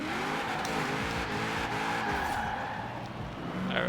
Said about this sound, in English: you guys gonna see how this one launched now with a V8 in